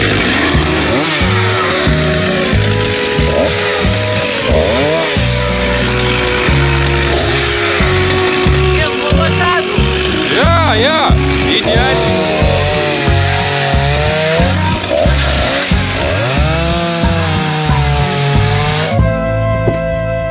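A chainsaw roars loudly and continuously, its engine pitch rising and falling as it bites into wood, with brief voices speaking over it.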